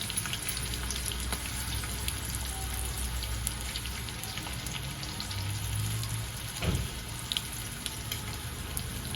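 Cumin, green chillies, curry leaves and asafoetida hit hot oil for a sukka zunka tempering, giving a steady, fairly quiet sizzling hiss with one short clatter near the end and no speech.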